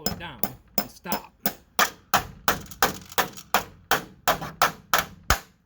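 A concrete anchor being hammered down to secure a lanai screen room, in a steady series of about fifteen sharp, loud metallic strikes, close by and evenly spaced.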